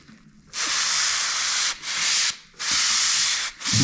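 Sandpaper rubs across a ceiling's finishing plaster in three long, close, steady strokes, each a loud scratchy hiss broken by brief pauses.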